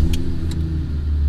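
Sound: car engine starting

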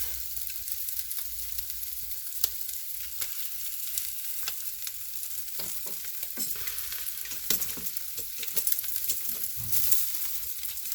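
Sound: chicken in olive oil and yogurt marinade sizzling over wood fire

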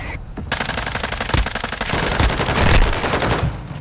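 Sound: gunfire in Call of Duty video game

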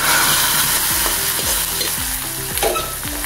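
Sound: tempering of fenugreek, mustard, curry leaves poured into rasam

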